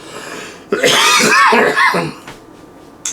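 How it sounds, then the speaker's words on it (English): A man who smokes coughs and clears his throat in a short, harsh burst close to the microphone, then falls quiet with a brief extra rasp near the end. "Cough right now."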